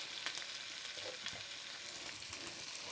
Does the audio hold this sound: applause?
no